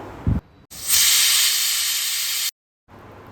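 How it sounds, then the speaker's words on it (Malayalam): A loud, steady hiss of steam escaping from a pressure cooker after cooking lentils for sambar, lasting nearly two seconds before cutting off abruptly. "കുക്കറിൻ്റെ ആവി ഫുള്ള് പോയിട്ട് വേണം തുറക്കാൻ"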